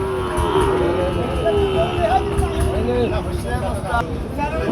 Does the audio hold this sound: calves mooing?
yes